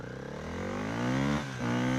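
A scooter engine revs and speeds away, its buzzing drone climbing steadily in pitch, loud and close, with a brief dip as the throttle eases before it picks up again.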